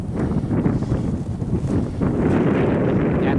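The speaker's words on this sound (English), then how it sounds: "It's windy." Strong wind buffets the microphone in low, rumbling gusts, continuous and loud, with a heavier surge partway through.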